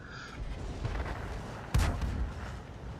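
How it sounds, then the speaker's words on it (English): Artillery shells landing in a tank battle video game featuring the T-34-85M tank, with one sharp, loud boom and rumbling tail mid-clip over a low, continuous battlefield rumble. "I can see artillery rounds coming down"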